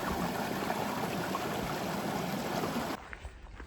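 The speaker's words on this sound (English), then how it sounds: "This is Barker Creek." Barker Creek, a mountain stream along the Tahoe Rim Trail, rushes steadily nearby as a dense, broadband watery wash, then drops abruptly to a quieter trickle near the end, with no talking.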